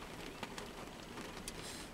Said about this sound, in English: I highly recommend an empty laundromat on a rainy Sunday night